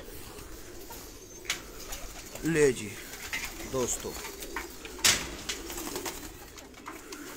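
Caged pigeons, including red-eyed and other fancy breeds at a sale in Sialkot, coo in a few soft, rolling bursts close by, with someone speaking briefly and light rustling around them.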